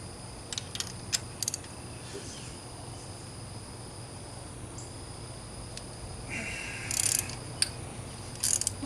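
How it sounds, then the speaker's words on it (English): A ratchet with a spark plug socket clicks in scattered short bursts while working on a Pontiac G8 V6, set against a quiet, steady background hum. "Now we'll just take our spark plug socket."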